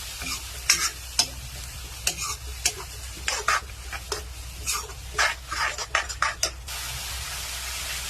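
Mixed vegetables with cauliflower, carrot, beans and tomato are stirred in a frying pan, with repeated close scraping strokes of the spatula in an irregular rhythm over a low continuous sizzle.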